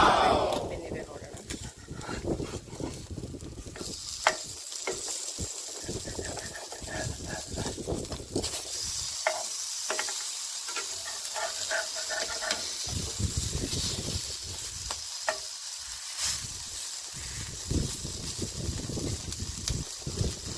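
Fish frying on a tawa in coconut oil makes a hissing sizzle with bursts of crackle, fairly faint and close. Brief scraping sounds are heard as the pieces are turned.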